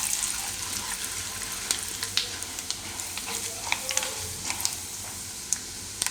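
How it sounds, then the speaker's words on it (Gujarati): Chana dal and urad dal frying in hot oil for curd upma, a steady close sizzle throughout with scattered crackles and a few spoon scrapes, moderately loud and without voices. "એમાં આપણે નાખીશું ચણાની દાળ અને અડદની દાળ. અને થોડીક આપણે કલર ચેન્જ થાય એવી શેકવાની."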